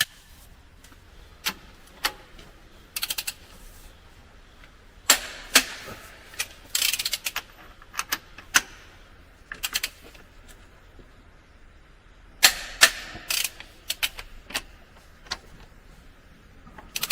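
A wrench tightens the brake pressure plate bolts on a Case Magnum 7200 series tractor, making sparse, quiet ratchet clicks in scattered short clusters over a faint background.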